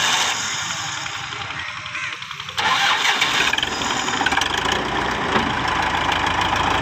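A 1981 Belarus MTZ 50 tractor engine being cranked, catching with a sudden jump in loudness and settling into a rough, clattering diesel idle, close and steady.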